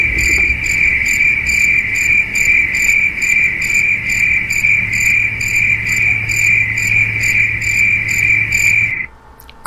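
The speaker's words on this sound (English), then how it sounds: "Crickets." Crickets chirp loudly and continuously in a fast, regular pulsing trill, sustained alone for about nine seconds before it cuts off abruptly.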